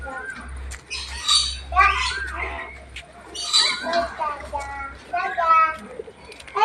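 Pet parrots squawk and chatter in repeated bursts, close by, with a voice talking over and between the calls.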